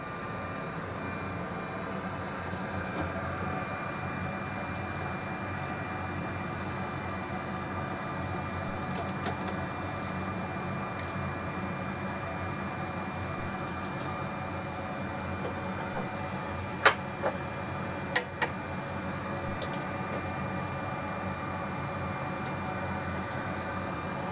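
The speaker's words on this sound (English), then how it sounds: "we're gonna need to remove that motherboard out of the unit and bring it to our rework machine" A rework machine heating the motherboard of a QNAP TVS-673E NAS, which is stuck checking memory, gives a steady broadband fan-like hum and hiss with a few faint clicks, constant and moderately loud throughout.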